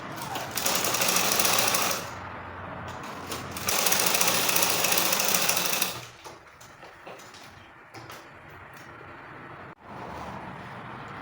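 A sewing machine stitches a trouser pocket on a half-inch seam in two loud, steady bursts of about two seconds each, separated by a short pause, then gives way to quieter fabric handling and light clicks.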